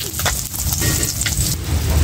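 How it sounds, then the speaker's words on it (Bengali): Cumin seeds sizzling in hot oil in a pan just used for frying fish, a dense crackling hiss with small scraping sounds, loud and close over about two seconds, no speech. "এই যে তেলের মধ্যে আমি জিরে দিয়ে দিছি"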